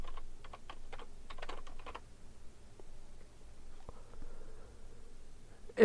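A password typed on a computer keyboard for a login: a quick burst of close, crisp key clicks for about two seconds, then near silence with a couple of faint taps.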